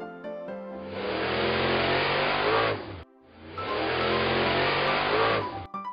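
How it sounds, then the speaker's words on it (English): A monster police van engine revs loudly in two long sustained bursts separated by a brief dip, with a hint of tire squeal, over faint background music. "Monster police van."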